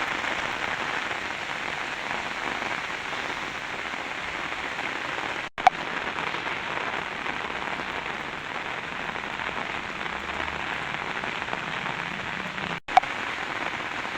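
Heavy rain falls continuously in Kadthal in a thick, uniform hiss of drops hitting the ground, with two brief knocks near the mic.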